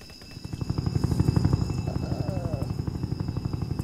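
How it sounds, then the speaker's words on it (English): An army helicopter in the Roblox Jailbreak video game, its rotor chopping in a fast, steady rhythm that swells louder over the first second and then holds, with a thin electronic whine above it. "Oh no, my army heli's glitched again."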